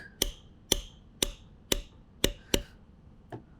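A bar grounder tapping leather during floral tooling, six crisp evenly spaced taps about half a second apart and then a fainter final tap, close and alone.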